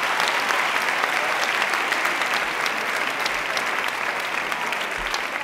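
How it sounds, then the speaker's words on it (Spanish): Sustained audience applause fills the hall at a regional sports awards gala in Tierra Estella, Spain, a dense steady clapping from a large crowd that holds at even loudness throughout with no one speaking. "¡Aplaudan fuerte, hombre!"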